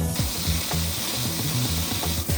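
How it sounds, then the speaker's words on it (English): A power washer sprays road salt off the underside of a van, a steady close hiss of water over a low droning motor hum that runs the whole time. "he said we could use his power washer, so we're just getting under the van"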